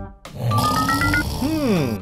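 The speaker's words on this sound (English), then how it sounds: "if Earth started snoring, even the trees on planet Earth may keep on shaking" A cartoon snoring sound effect: one long, loud snore with a rough, grunting inhale, then whistling tones that sweep up and back down, standing alone.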